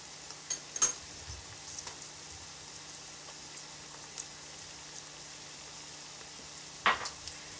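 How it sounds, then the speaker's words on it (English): Green peppers, red peppers and onions frying in a pan give a faint, steady sizzle, broken by a few soft clatters as they are stirred; no one speaks. "I'm gonna stir the green peppers and red peppers and onions up"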